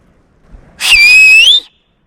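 One loud human whistle is blown outdoors at Big Sur during a camping and hiking trip with a puppy. A short breath comes first, then a strong steady tone of nearly a second that bends slightly at the end and stops cleanly.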